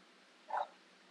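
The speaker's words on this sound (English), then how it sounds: "Oh, she's barking." A dog gives a single short, fairly faint bark, heard alone against quiet background.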